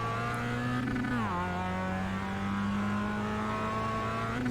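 Mazda MX-5 racing around Tsukuba Circuit in the iRacing simulator, its engine tone holding steady, dropping and then rising as the car brakes and accelerates through a corner, continuous and alone.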